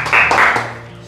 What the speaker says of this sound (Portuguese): Salva de palmas pra vó Marina.